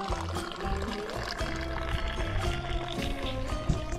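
Tea pours steadily in a continuous splashing trickle at close range, served by a Bedouin family in the Moroccan desert, with no talk over it.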